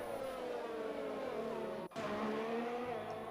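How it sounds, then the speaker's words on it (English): Race cars in F1 2020 entering the pits at Abu Dhabi, engines droning steadily and loud throughout, with a brief dip in the sound near the middle before the engine noise resumes. "So, cars already coming into the pits."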